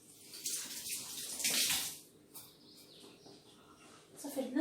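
Tap water runs while hands are washed in a home kitchen, with splashing bursts that swell and fade, fairly faint, and a voice speaks quietly in the background.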